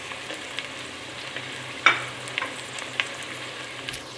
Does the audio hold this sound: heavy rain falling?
no